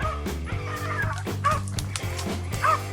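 A hunting dog barks in short, sharp bursts during a black bear hunt in the British Columbia mountains, fairly close, with a steady low hum underneath.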